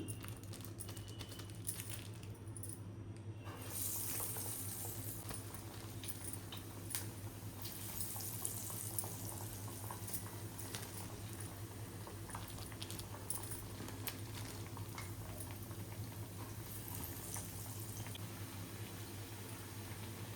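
Chana dal vadas made from soaked chana dal with onion, green chilli, ginger and curry leaves frying in hot oil, a continuous close bubbling crackle with a low steady hum underneath, no talking.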